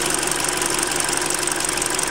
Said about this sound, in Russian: Мотор работает нормально